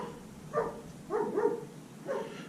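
Dogs bark a few times in the background while a 1957 Johnson Seahorse 3 hp outboard is being worked on, three muffled, fairly distant barks spaced about half a second apart.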